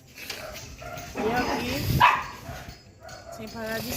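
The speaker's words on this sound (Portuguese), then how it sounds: "Cachorro latindo." Dog barking on a deserted street late at night, a few yelps and barks rising briefly in the middle under ongoing talk and background noise.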